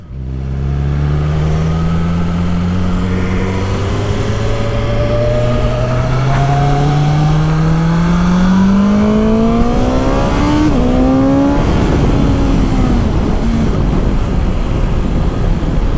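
A loud 2019 BMW S1000XR motorcycle engine climbs steadily in pitch as it accelerates through the gears, roaring close by with a constant rush of wind.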